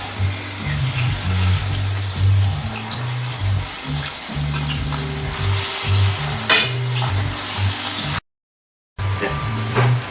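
Steak sizzles and fries steadily in a pan for tequila steak wraps, a loud, close, continuous crackle with occasional stirring clatter and a brief cut-out near the end.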